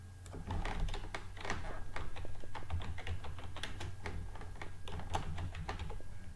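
Steady run of keystrokes on a computer keyboard while spreadsheet marks are entered, close and clear, with fast irregular taps continuing throughout.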